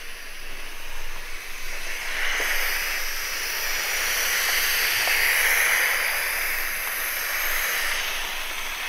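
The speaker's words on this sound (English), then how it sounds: "I'm steaming the floor" Steam cleaner steaming a floor indoors, a continuous loud hiss of escaping steam that swells slightly midway and holds steady throughout, with no talking.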